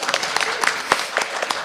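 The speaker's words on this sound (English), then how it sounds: "Give him a double big round of applause." Scattered audience applause at a Sunday morning satsang, a few hands clapping unevenly in a room, moderately near with irregular claps and no steady roar.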